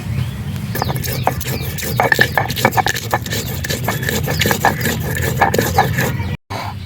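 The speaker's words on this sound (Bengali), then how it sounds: "এখন আমি লঙ্কাগুলোকে ভালো করে বেটে নেবো" Green and dried chillies are ground on a grinding stone, giving a rapid rhythmic scraping and rubbing, close and fairly loud, that runs nearly throughout before a brief break near the end.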